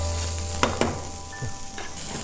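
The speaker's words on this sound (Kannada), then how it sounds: "ಈಗ ಫ್ರೈ ಆಗಿದೆ ಸ್ವಲ್ಪ ಇದಕ್ಕೆ ಈರುಳ್ಳಿ ಹಾಕ್ತಾ ಇದೀನಿ" Onions frying in a pan for a village-style coastal fish curry, a steady close sizzle with a couple of sharp spoon knocks and scraping stirs.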